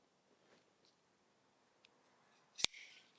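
A single sharp snip of scissors cutting heat shrink tubing for battery cable lugs, preceded by faint ticks and followed by a soft rustle, close and quiet.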